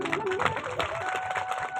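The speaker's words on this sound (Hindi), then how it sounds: "इन संतों के लिए, स्वागत के लिए एक बार जोरदार ताली बजाएं" An audience clapping to welcome saints at a devotional bhajan gathering, dense applause throughout, with a voice speaking over it.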